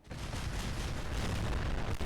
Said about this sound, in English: One gigantic explosion later